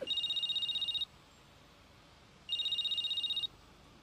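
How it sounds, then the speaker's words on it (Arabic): A telephone rings in two electronic bursts, each about a second long, separated by a pause, with a faint hiss between rings. "بلا ما رد خليه يرن شوي"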